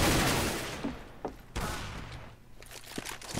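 Gunfire in Counter-Strike on the de_mirage map, with a loud burst at the start that fades, then scattered sharp single shots and distant pops, and no talk.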